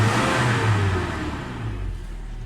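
A Toyota Innova engine runs steadily after a panel gauge repair, a loud, close idle hum with a low throb that eases slightly toward the end. No one speaks.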